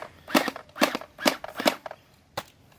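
Spartan Tactical Gear P90 gel blaster firing after a voltage upgrade: four quick bursts of rapid snapping shots, then a single later shot, close and loud with no talking.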